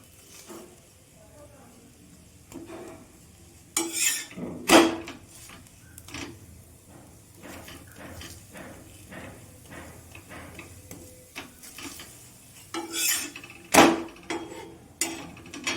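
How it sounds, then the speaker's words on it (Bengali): Egg and vegetable paratha frying in a pan, with soft sizzling under scraping clatters and clanks as the flatbread is turned over and over, a few sharper knocks standing out. "আমি এইভাবে উল্টে পাল্টে ভেজে নিচ্ছি"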